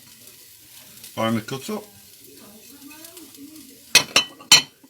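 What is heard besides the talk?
chopped garlic and rosemary sprigs frying in a pan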